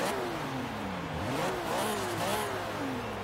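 A classic Volvo P1800E, a barn-find car in the Forza Horizon 3 racing game, accelerates hard. Its engine note climbs through repeated rising revs with gear changes, steady and fairly loud.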